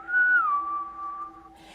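A single sustained human whistle imitates a creature's whistling: one clear, steady tone that rises briefly and then holds level for nearly two seconds, heard alone and close.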